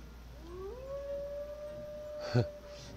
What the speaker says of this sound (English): Them wolves, man, they howl pretty loud.